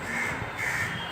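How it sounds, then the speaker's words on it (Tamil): A crow caws loudly and close by on a house rooftop during a Purattasi Amavasai food offering. The single drawn-out call stands alone. "மேலே பார்த்திங்கன்னா காக்கா இருந்தது."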